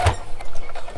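A sewing machine runs in a short, close burst while understitching a lemon playsuit with boning, giving a brief mechanical whir with a rapid needle rhythm.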